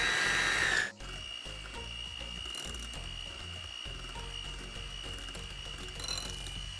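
Electric hand mixer beating churro batter in a home kitchen, a steady whirring motor whine that runs without a break, fairly close, after a brief louder clatter at the start.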